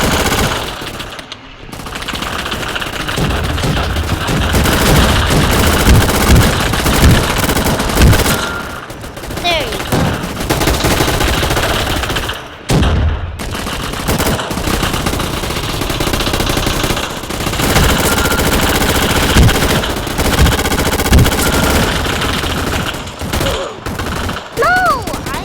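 Rapid automatic gunfire from the shooting game Gun Fight Arena, loud, dense bursts crackling almost continuously with brief pauses, plus a few rising whoosh effects.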